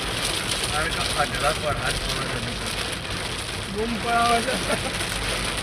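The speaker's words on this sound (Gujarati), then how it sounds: "વરસાદે જોરદાર ચાલુ છે" Heavy rain drums steadily on a surface with a constant dense hiss, while voices talk intermittently over it.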